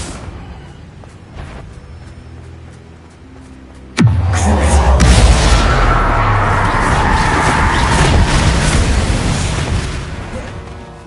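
Spell blasts from Confringo and Bombarda erupt in Hogwarts Legacy, starting with a sudden loud boom followed by a long roaring, crackling rumble of explosion debris that slowly fades, after a few quieter earlier thuds.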